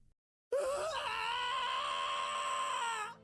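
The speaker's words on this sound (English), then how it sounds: "You could hear the pain in that scream." A game character in Limbus Company lets out a long, loud scream of pain that starts abruptly after a moment of silence and is sustained for nearly three seconds before cutting off.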